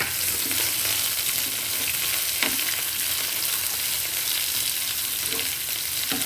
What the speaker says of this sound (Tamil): வெங்காயம் ரொம்ப வதக்க வேணாம், ஓரளவுக்கு வதக்கிக்கலாம்.